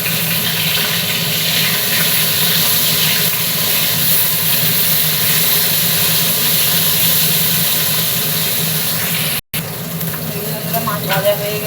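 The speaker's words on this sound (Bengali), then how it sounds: "মাছ ভাজা হয়ে গেছে, মাছগুলো তুলে নেবো" Fish frying in oil for a Bengali fish curry gives off a broad, constant hiss that holds steady and fairly loud, with a brief cut near the end followed by a few small clinks.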